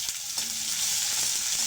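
Garlic sizzles in hot oil with mustard seeds and dried red chillies for a Tamil drumstick-leaf stir-fry, a steady bright hiss throughout with no talking.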